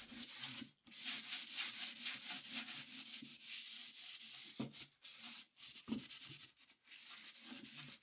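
Furniture being scuff-sanded by hand, a steady, close rasping rub of sandpaper over a finished surface, continuous strokes broken by a few brief pauses.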